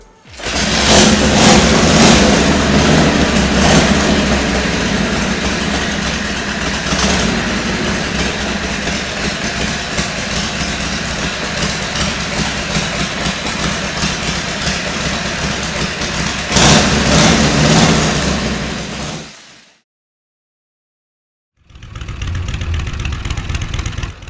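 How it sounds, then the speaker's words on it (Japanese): A chopper motorcycle's engine runs loudly at a steady idle with a low rumble, cuts out abruptly into silence, then is kick-started back up and idles again. "キックスタートはね、 皆さんよくねガンガン蹴ってるところを見ると思うんですけれども"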